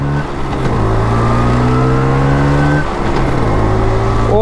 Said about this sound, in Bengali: দেখেন মানে গিয়ার শিফটিংয়ের যে সাউন্ডটা, এই যে 1 নম্বর গিয়ারে